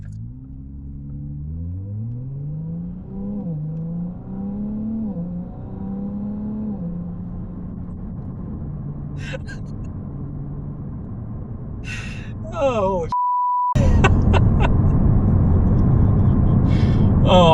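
A Ferrari 296 GTB hybrid supercar accelerates hard, its engine note climbing through several quick upshifts before settling into a steady cruising drone. A voice briefly exclaims, and road and wind noise grow louder toward the end.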